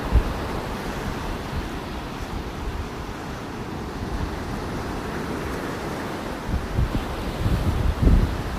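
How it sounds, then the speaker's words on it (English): Waves break on a Gulf beach near Fort Myers Beach. A continuous rushing surf comes through heavy wind buffeting, with a few louder thumps near the end. No one speaks. "Look at those waves."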